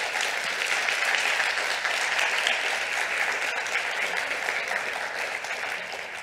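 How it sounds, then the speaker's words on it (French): A conference audience applauds steadily at the end of a talk on life cycle analysis, a dense, sustained wash of many hands clapping that stays loud throughout with no voices breaking through. "On peut continuer d'applaudir."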